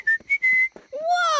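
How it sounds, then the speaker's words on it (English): A cartoon lion cub whistles, giving three short steady notes followed by a longer rising, wavering whistle, close and clear with no talking over it. "Yes, I can whistle."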